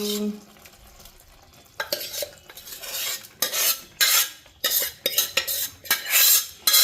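Cooked dal being stirred into a pot, with a series of scraping, clinking strokes of a utensil against metal that start after a quiet opening and grow louder in bursts, close and without any talking.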